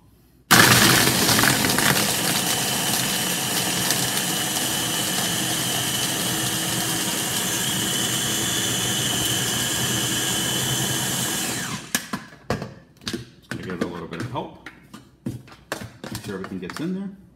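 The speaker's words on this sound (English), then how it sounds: "I know a lot of you are always interested in knowing the blender that I use. So this is the Ninja," Ninja blender running, a loud, steady whirring roar lasting about eleven seconds before cutting off, followed by irregular tapping and clatter with voices talking.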